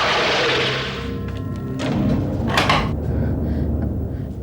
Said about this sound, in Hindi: दरवाजा क्यों बंद किया?